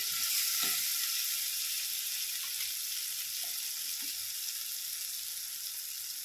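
Spices such as turmeric and chutney powder stirred in a hot pan of oil, a steady loud hiss of frying with a few soft scraping strokes of the spoon, close and without talk.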